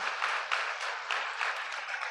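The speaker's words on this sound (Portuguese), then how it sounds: "Igreja, por favor, aplauda a vida desses irmãos." A church congregation applauds, a dense wash of many hands clapping steadily at moderate volume, with small swells throughout and no voices standing out.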